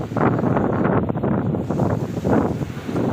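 Strong wind by the sea buffets the microphone in a continuous heavy roar, with a low rumble of surf or open water underneath.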